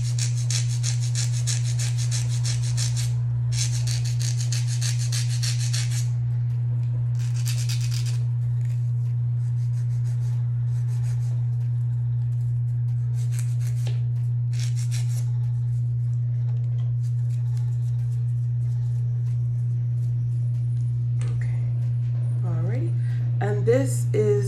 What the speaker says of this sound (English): This is 100, 180 grit file.